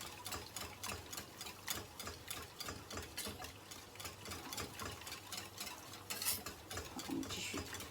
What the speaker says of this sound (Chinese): 快速的搅拌，下面还是小火，好，快速的搅拌